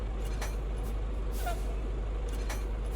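A truck's air brake hisses in Farming Simulator 19, on a truck converted from Euro Truck Simulator 2, with a few short bursts of air over a constant low engine hum.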